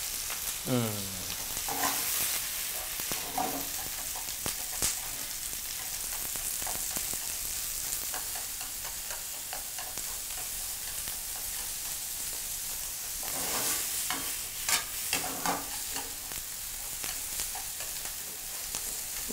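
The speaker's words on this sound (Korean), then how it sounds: "그리고 볶아줍니다." Cabbage, onion and other ingredients for yaki udon are stir-fried in a pan, a long steady sizzle with the spatula scraping and tossing in scattered bursts, close and moderately loud, with no voices.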